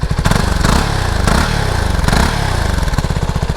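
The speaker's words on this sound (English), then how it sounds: "It's a deeper tone exhaust." A deep, throaty exhaust on a CF Moto NK 300 naked motorcycle idling up close, with a steady low rumble and rhythmic pulsing.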